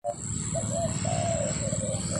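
Soft, hollow cooing notes repeat in a slow series over a steady background hiss and low rumble, a pigeon calling from nearby in a rice field.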